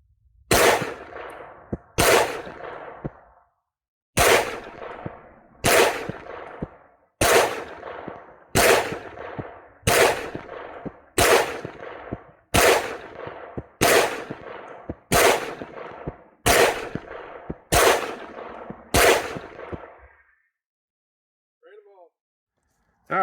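A pistol fires ZQI ammunition at a target, about fourteen sharp, loud shots spaced roughly a second and a half apart, each ringing briefly. A short pause comes partway through, and no talk is heard.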